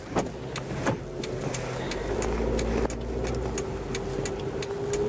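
A small car, likened to a motorbike, drives just ahead, its steady engine hum running throughout beneath a string of sharp ticking clicks.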